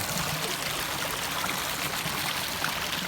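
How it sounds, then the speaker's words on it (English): Water bubbles and gurgles steadily where it emerges from an abandoned coal mine in West Virginia, a close, continuous broadband wash with no voices. "You can see bubbling up in here. This is all water coming out of an abandoned coal mine."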